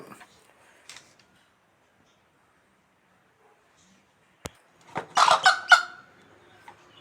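A spotted broody hen sitting on a clutch of eggs gives a short burst of clucking calls near the end, after a long quiet stretch broken only by a faint call and a sharp click.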